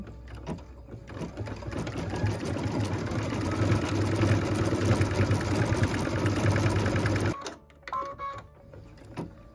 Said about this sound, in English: What we're stitching now is the second part of the quilting.